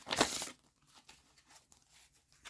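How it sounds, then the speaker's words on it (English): A short, bright papery burst at the start, then faint soft rustles and light handling of tarot cards, close and quiet. "let's shuffle these back up."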